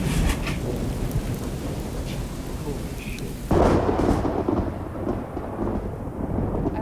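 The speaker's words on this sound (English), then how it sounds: "it's certainly gusting more than that right now" Thunderstorm over a Canadian tree planters' camp by a tent, with steady heavy rain, rumbling thunder and a sudden stronger gust of wind halfway through, loud and continuous with no talk.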